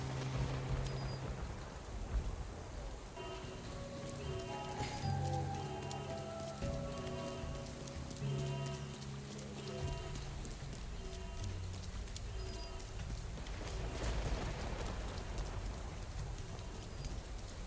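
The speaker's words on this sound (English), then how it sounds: "Ooh, it is rainy." Steady rain pours down in the video game Gloomy Eyes, a continuous close hiss with a few thudding accents, layered under soft melodic game music throughout.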